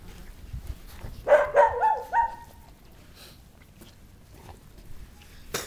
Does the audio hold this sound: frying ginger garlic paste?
no